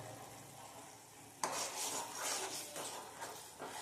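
Chutney with a spoonful of soy sauce is stirred in a hot pan for momos, a soft sizzle that jumps into scraping, clinking strokes of a spoon against metal after a quiet start.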